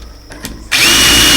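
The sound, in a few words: power drill drilling a hole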